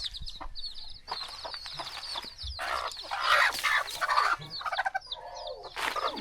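A tangled hen clucks and squawks in short bursts, close by, with rustling and some faint background noise between calls.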